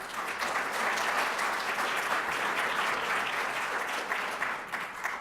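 An audience at a Chamber of Commerce election forum breakfast at the Arvada Center applauds the catering and service staff, a dense, steady round of clapping that fills the room without a break for several seconds.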